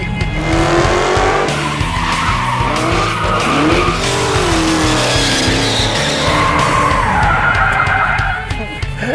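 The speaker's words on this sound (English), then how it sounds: "now we're gonna send off this poor 2015 Charger with an epic set of burnouts" A 2015 Dodge Charger with a 707 hp Hellcat engine does sustained burnouts, its loud engine roaring with continuous wavering tire squeal and screech close by for the whole stretch.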